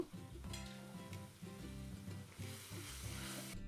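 Ground spice paste with turmeric, chili, cumin and coriander powders frying in a pan for a fish curry, a continuous sizzle under repeated stirring scrapes, close but low in level.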